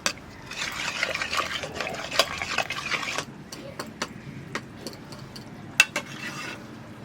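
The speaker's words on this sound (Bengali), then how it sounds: "ঘাটিয়ে নিয়েছি ভালো করে" Chicken being stirred and mixed with Kashmiri chilli powder, cumin powder, garam masala and kasuri methi for a pressure-cooker chicken dish: a steady wet, scraping stir that thins out into scattered spoon taps and clinks near the end.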